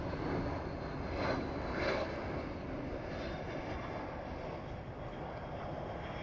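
Aircraft coming in to land at Dallas, Texas, a broad steady roar heard at a distance, moderately loud and unchanging, with no talk.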